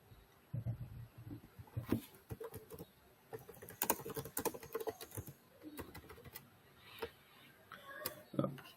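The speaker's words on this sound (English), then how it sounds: "They're typing on the chat." Faint, rapid computer keyboard typing by a technical supporter typing in a chat, irregular clusters of light key clicks with a low hum and brief murmurs in the background.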